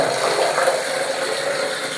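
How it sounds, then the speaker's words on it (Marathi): Water gushes hard from a newly fitted household tap, a loud, steady, close hiss and splash with no pauses and no talking. "आता फास्ट आहे ते पाणी"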